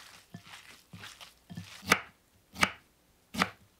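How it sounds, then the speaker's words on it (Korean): Sharp knife chops on a cutting board as kimchi is sliced: about six clean strikes at an uneven pace, the first few lighter and the last three louder and more spaced, close and alone. "김치도 쫑쫑 썰어 준비합니다."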